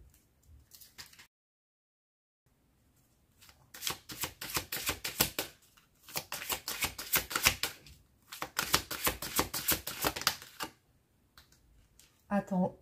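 Tarot cards are shuffled by hand in several rapid riffling bursts separated by quiet gaps, close and crisp, with a brief voice at the end.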